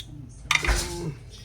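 Meatballs of ground meat tumbling into a metal cooking pot at a home stove, a couple of clattering thuds and clinks of the pot, close and fairly loud, with no talk.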